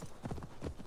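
Horse hooves in Assassin's Creed Valhalla beat out a quick, steady clip-clop gallop, close and fairly loud, with no one speaking over it.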